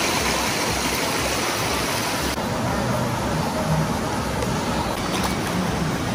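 Clear stream water flowing in a steady, loud broadband rush that continues without a break throughout.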